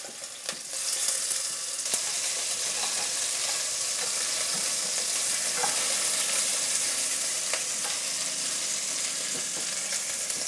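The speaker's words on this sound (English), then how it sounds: "And so we are doing the browning process" Chicken pieces for Jamaican curry chicken brown in a pan over a medium flame, giving a steady, close, even sizzle and crackle with no one speaking.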